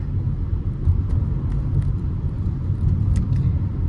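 A Honda WR-V RS driving straight, heard from inside as a steady low rumble of engine and road noise, constant and moderately loud, with no talk.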